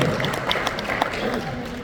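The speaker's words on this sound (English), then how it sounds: "give yourself a round of applause for understanding that" An audience at a ministry graduation keynote address breaks into applause, a dense patter of many hands clapping throughout, fairly loud and close.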